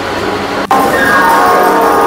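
Panskura local train at platform 13 of Howrah station, a loud steady rumble of the train heard from inside, with a sharp clank partway through followed by a sustained tonal whine.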